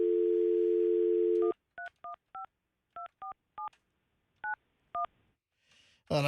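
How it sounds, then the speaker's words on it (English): A telephone dial tone hums steadily, then cuts to a quick series of separate touch-tone beeps in irregular rhythm, clear and close, with a brief rustle at the end. "let me pick up the phone here and dial."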